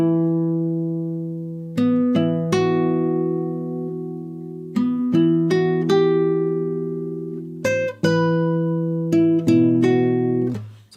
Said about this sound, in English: I've just sort of added some bass notes to the original line just to make it sound a bit fuller